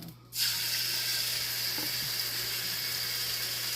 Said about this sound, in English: we're about to sear and cook these pork chops up until they're done